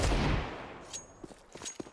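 AK-47 rifle fire in a Counter-Strike esports match on the Anubis map: a loud opening burst followed by several short, sharp single shots and clatters at mid distance, with no talk.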